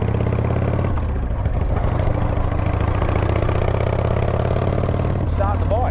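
A motorcycle engine, started with a button on the handlebars that sometimes fails, turns over and settles into a steady, loud, close idle that runs throughout with a rhythmic mechanical chug.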